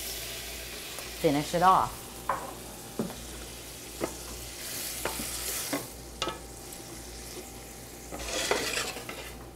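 Vegetable broth hits a hot pan and sizzles while a spoon stirs and scrapes repeatedly in an uneven rhythm, heard up close with a brief spoken phrase early on.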